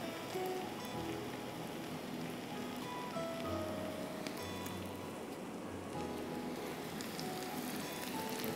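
Gola kebabs fry in a pan with a steady, dense crackling sizzle that holds evenly throughout, with no voices over it.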